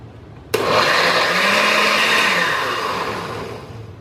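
A blender whirs on abruptly and runs loudly for several seconds, liquefying chile sauce with water, its motor pitch shifting slightly as the liquid churns, then easing off near the end.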